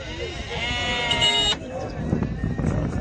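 Arab goats bleat at the Maştağa sheep and goat livestock market, a long nasal cry up close followed by a shorter one, with people talking underneath.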